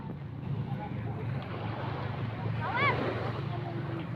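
Wind buffets the microphone on a seaside beach, with a steady wash of waves and surf underneath and a faint brief voice-like call in the middle.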